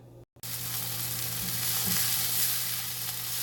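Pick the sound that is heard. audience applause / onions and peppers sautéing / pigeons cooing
onions and peppers sautéing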